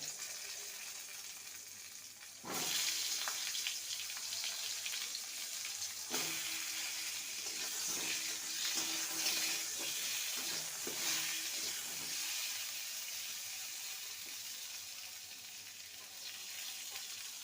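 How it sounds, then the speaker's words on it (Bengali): Pointed gourd pieces drop into hot oil at about two seconds and set off a loud, steady sizzle and crackle that lasts to the end, with occasional stirring knocks near the pan and no talk. "এবার পটল নিয়েছি, পটলটাকে দিয়ে দেবো, হালকা ভেজে নেব"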